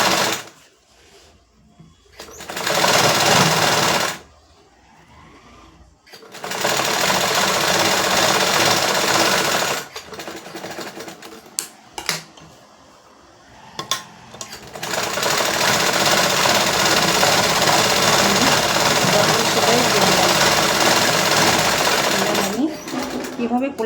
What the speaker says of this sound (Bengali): প্রতিটা সেলাই আমি হাফ ইঞ্চি ধরে